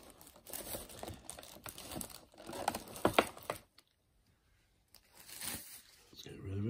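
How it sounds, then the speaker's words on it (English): Standard plastic bag crinkled and pulled off a handheld game console box during unboxing, in several close rustling bursts with a brief quiet gap. "usual standard plastic bag."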